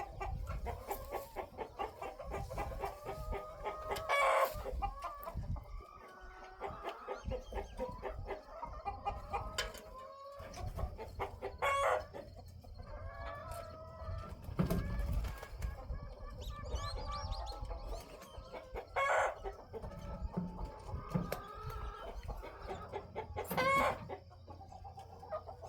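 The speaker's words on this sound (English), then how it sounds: "we do have a couple of roosters, not that many. They're happy roosters." A busy flock of chickens in a hen house at midnight clucks and squawks continuously, with a rooster crowing several times through the din, close and lively.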